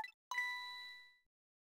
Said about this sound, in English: is the sound of a telephone ringing, coming from the apartment next door.